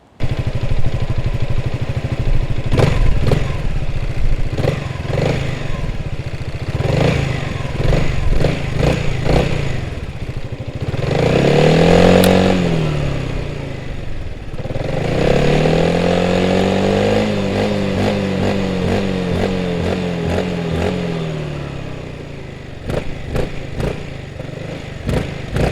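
A 2022 Honda ADV 350 scooter on a test ride, its engine droning steadily with rises and falls in revs, plus intermittent thumps and clatter, heard up close throughout.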